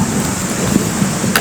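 Heavy rain lashes down with strong wind in Buleleng, Bali, a dense, continuous roar of rainfall with gusty rumbling underneath that stays loud throughout.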